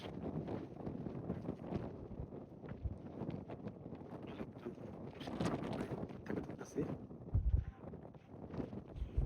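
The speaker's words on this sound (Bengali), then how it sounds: "প্রচন্ড বাতাস" Steady rushing wind buffets the microphone throughout, with faint voices talking underneath.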